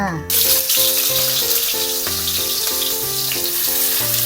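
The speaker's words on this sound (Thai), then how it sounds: "ดี๋ยวเราก็มาเจียวหอมก่อนนะคะ เจียวหอมแดงไว้ค่ะ" Shallots frying in hot oil for a Thai dish make a steady, close sizzle that runs the whole time beneath louder background music.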